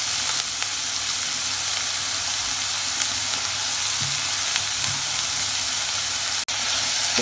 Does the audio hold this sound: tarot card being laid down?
no